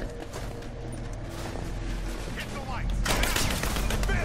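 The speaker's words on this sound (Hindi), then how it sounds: "गोलीबारी भी बहुत हो रही है" Heavy gunfire in the Rise of the Tomb Raider video game during a snowstorm, with dense continuous bursts of shots that grow louder and more intense toward the end.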